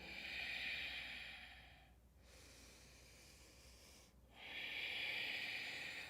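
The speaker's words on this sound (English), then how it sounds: "In and out through your nose, that deep ujjayi breathing." Slow, deep ujjayi breathing through the nose during a yoga pose, one long hissing inhale, a quiet pause, then a long exhale, close and soft with no talking.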